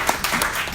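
A brief burst of audience applause for a speaker at a talk about protecting the Saint Joseph River watershed, dense clapping that is loud and close with no talk.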